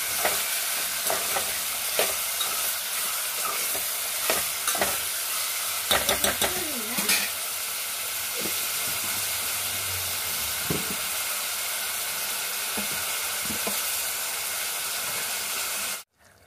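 Curry leaves sizzle in hot oil for chicken curry, a steady loud frying hiss close by with scattered stirring clacks, ending abruptly.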